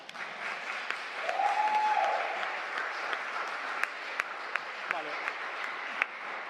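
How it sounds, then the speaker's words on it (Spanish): A studio audience at a television talk show claps in sustained, fairly close applause that runs the whole time, with a voice briefly rising above it. "Simplemente quiero que aplaudáis, todavía no, las personas que pensáis que voy guapísima"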